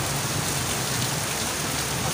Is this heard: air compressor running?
no